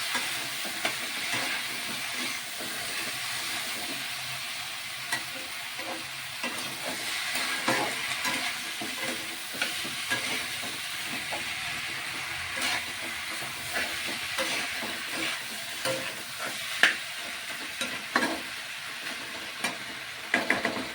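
Dried fish and taro stolons sizzle steadily in a frying pan while a utensil stirs them, with scattered scraping knocks over the continuous hiss of hot oil, close and moderately loud, no talk.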